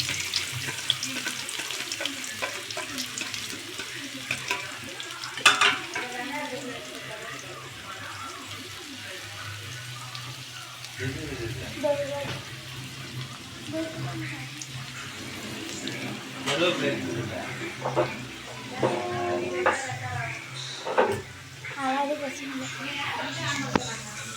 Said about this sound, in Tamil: நல்லா வதக்கி விட்டுக்கலாம்.